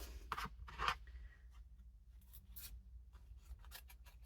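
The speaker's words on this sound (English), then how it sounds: "I'm using scissors instead of a torn edge" Quiet, close snips and scrapes of scissors cutting paper strips for a journal, a few louder cuts at first followed by lighter intermittent snips.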